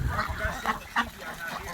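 Ducks call on freezing water in 23-degree cold, a run of honking, quacking calls close by over a steady outdoor rumble, with a louder call near the middle.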